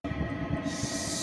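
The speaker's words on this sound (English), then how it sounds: "So what you're hearing is my diesel heater." A running diesel heater gives a steady mechanical rumble with a low pulsing throb and a constant hiss. About a second of it is heard, close and continuous, with no voices.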